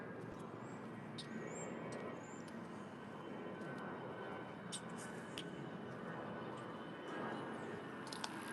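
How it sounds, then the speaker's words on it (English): A jet climbing out of Washington's National Airport, heard far off as a steady broad roar that holds throughout beneath outdoor ambience near the Lincoln Memorial, with faint bird chirps and scattered clicks. "Another jet going up out of National Airport."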